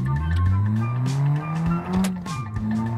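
An ETK K-series coupe in BeamNG.drive, driven in Sport Plus mode with nitro, revs loudly with a rising engine whine while tires squeal and skid in a close, continuous burst broken by brief shifts.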